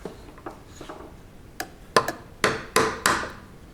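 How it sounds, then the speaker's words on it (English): A hammer drives a nail back through wood while restoring a sewing cabinet, a series of sharp close knocks, light taps at first then about six harder, evenly spaced blows, with no talking. "Now I'll just hammer this back through to the other side."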